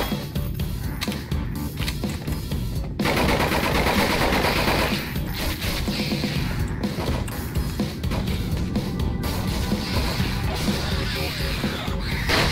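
Rapid automatic gunfire and clattering weapon mechanics from the horror shooter game Nightmare House 2, loud and nearly continuous with brief gaps, filling the whole stretch.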